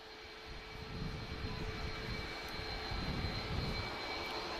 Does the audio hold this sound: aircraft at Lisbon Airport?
yes